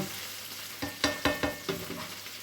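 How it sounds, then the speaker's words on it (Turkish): Food sizzling and frying in a hot electric pan with tomato and pepper paste, with several distinct scraping stir strokes in quick succession over a steady crackle. "Kızarttım beraber. Süper sotelendi. Yine elektrikli tavayla yapıyorum."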